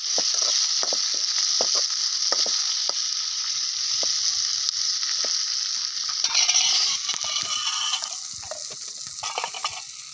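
Onion, ginger and garlic sizzling and frying in a pan on an outdoor riverside cooking setup, a steady loud hiss with repeated scraping stir clicks throughout, growing busier and crackly toward the end.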